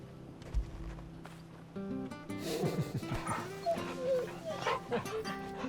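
The dog Torgal in Final Fantasy 16 whimpers and yips softly, short whiny cries over game ambience and footsteps, with a voice speaking over part of it.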